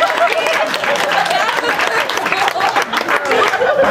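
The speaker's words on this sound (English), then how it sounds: "Give her a big round of applause." Applause and light laughter ripple through an audience at a comedy show about Hillbilly Golf, a steady crowd wash of clapping with chuckles mixed in, moderately loud throughout.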